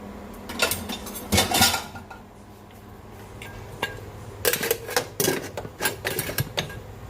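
Pressure cooker lid being closed over pork pata and corn: a few sharp metallic clanks and scrapes of lid on pot, loud and close, with clattering bursts near the start and a cluster toward the end.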